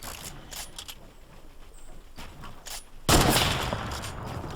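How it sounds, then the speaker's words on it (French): Gunfire in Fortnite's reinforcement mode: quieter game action, then a sudden loud, sustained burst of shots that rings on and slowly fades over the last second and a half, with no talking. "Il s'est pris une bonne rafale."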